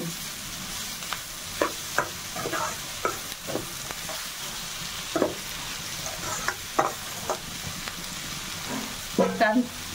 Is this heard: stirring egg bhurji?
yes